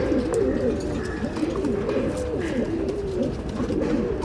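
Fancy pigeons at a Bangalore bird sale coo together in a dense, continuous chorus of low, rolling calls, several birds close by and overlapping with no pause.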